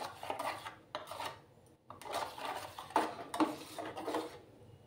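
Salt is mixed by hand into a hilsa fish preparation for a steamed Bengali dish. It makes bursts of rubbing and scraping against a bowl, close and moderately quiet, separated by short pauses, with no talk.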